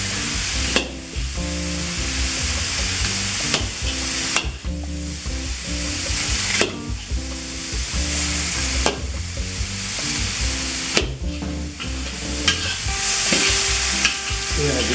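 Chicken and vegetables sizzle in a stir fry, a loud continuous frying hiss broken by repeated scraping stirs of a utensil against the pan every couple of seconds, with no talking.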